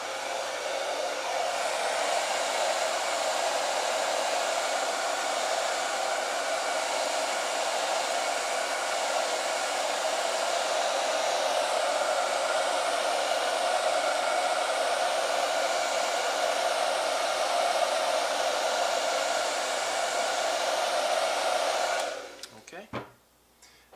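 Heat gun blowing to warm a dbrand skin during installation on a phone, a steady loud airy whoosh lasting over twenty seconds before switching off with a few handling clicks.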